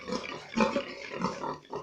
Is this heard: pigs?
yes